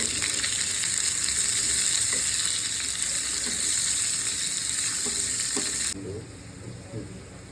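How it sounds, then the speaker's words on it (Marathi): Onion frying in about two spoons of oil until golden, a loud dense sizzle with stirring scrapes that drops abruptly quieter near the end as the pan settles. "त्याच्यामध्ये आपण कांदा परतून घेऊ गोल्डन कलर होईपर्यंत"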